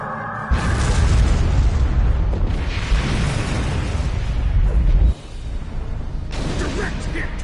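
A weapons hit explodes in the Star Trek Online space battle, a loud sustained blast that starts abruptly, roars for several seconds, then cuts to quieter rumbling with a fresh burst near the end.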